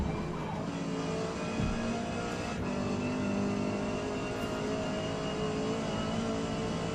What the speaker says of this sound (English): This car sounds really good though.